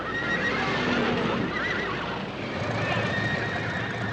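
Several horses whinny and neigh over steady clip-clopping hooves and a dense outdoor din, loud and continuous, with faint voices underneath.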